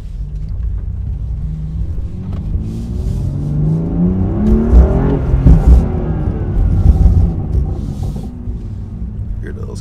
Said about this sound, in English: Hear those crackles?